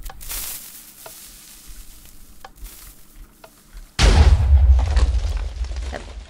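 A Minecraft TNT cannon fires: soft ticks and faint clicks give way to a sudden loud explosive blast with a crackling, rumbling tail that continues to the end, close and heavy.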